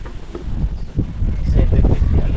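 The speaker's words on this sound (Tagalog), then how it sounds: "Nung patapos na ako, lumakas na yung hangin." Strong wind buffeting a microphone at a white-sand beach resort in Pinamalayan, Oriental Mindoro, a loud, low rumbling roar in uneven gusts that builds toward the end.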